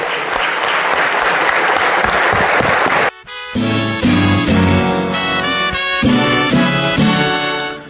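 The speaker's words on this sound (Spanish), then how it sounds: "invitamos a todos los senadores a ofrecerles de pie un aplauso a nuestra atleta" Senators in the Senate giving a standing ovation to an athlete: loud, sustained clapping for about three seconds, cut off abruptly as music begins.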